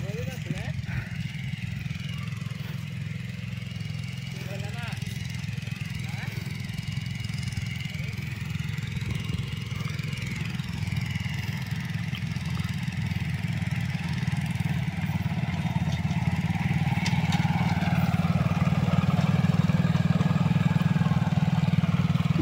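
A motorcycle engine drives a field-levelling implement on farmland in Assam, holding a steady droning note that grows somewhat louder toward the end.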